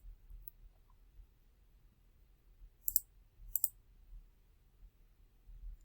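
Computer mouse clicking, two sharp, faint clicks close together in an otherwise quiet room with a low hum.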